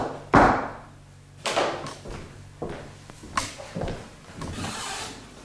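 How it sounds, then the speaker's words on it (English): Knocks and thumps at a wooden door, several separate bangs spaced irregularly, with a few sharper slams standing out among softer taps and shuffling. "Is that somebody at the door?"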